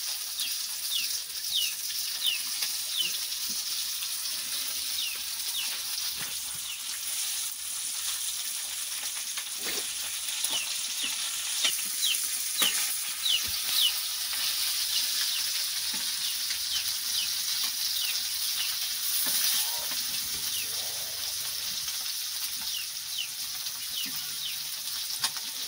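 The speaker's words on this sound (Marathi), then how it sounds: "मस्त कडक आता आमचे ही बोईट मच्छी फ्राय झालेली आहे." Boi mullet fish frying in a pan of hot oil gives a steady, close crackling sizzle with sharp spitting pops throughout, and no one speaks.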